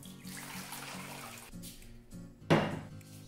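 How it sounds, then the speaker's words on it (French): Water splashes and pours into a basin set up for a foot bath, a steady watery wash that swells into a louder gush partway through, heard close with no talk. "Donc j'ai ma bassine, j'ai mon récipient rempli d'eau."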